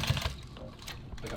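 A sewing machine stitching nylon tactical gear, a brief burst of rapid mechanical clatter heard close, with a voice faintly in the background.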